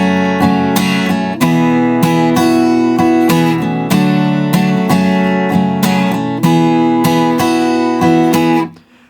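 A guitar plays bars 13 and 14 of a song, in a loud, bright, close strummed-and-picked rhythm with repeated chord attacks that rings out and stops near the end.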